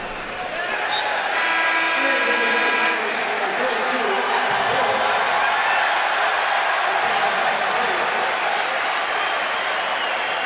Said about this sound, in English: the crowd calling for Adam Wolf and getting Adam Wolf